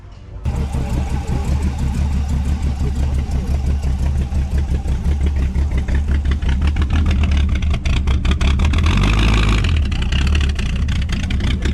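A small-block Ford V8 idles roughly and loudly up close, missing on three cylinders, its lumpy uneven pulsing loping steadily, with a brief rev near the end.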